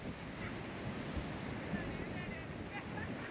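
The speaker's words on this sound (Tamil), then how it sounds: "இதுதாங்க மாரியூர் கடற்கரை. மாரியூர் கடற்கரையை பார்க்காதவங்க பார்த்துக்கோங்க." Sea waves washing onto Mariyur beach, a faint, continuous surf hiss mixed with wind noise on the microphone, with soft low thumps now and then.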